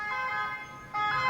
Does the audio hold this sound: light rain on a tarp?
no